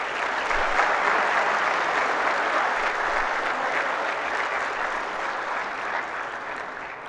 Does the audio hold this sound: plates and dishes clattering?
no